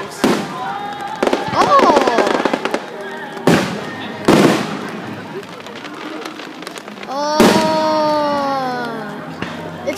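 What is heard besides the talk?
Fourth of July fireworks exploding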